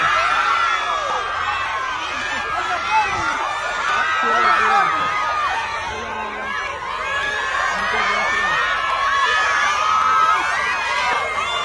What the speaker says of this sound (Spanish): fue recibido en el aeropuerto Jorge Chávez por sus fanáticas que gritaban su nombre y querían abrazarlo